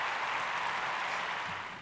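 A small group claps together steadily for a contest winner during a casual recording, a dense patter of hands that stays even and then tapers off slightly at the end.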